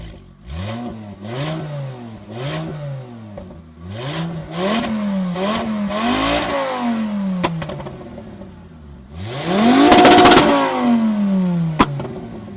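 A Mk2 GTI fitted with a swapped five-cylinder engine revs repeatedly. Loud rising and falling blips come in a steady rhythm, followed by one longer, harder rev that winds back down, close up and with no talking.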